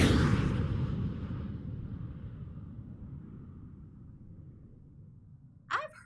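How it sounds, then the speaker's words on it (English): A jet plane flies across the sky with a broad, steady roar that starts strong and slowly fades as it passes, ending with a brief sharp sound. "It's a jet flying in the sky."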